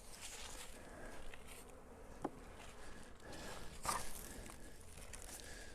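Bees from strong beehives buzzing in warm winter weather, a continuous faint outdoor hum of many insects with individual passes drifting by and a few soft knocks.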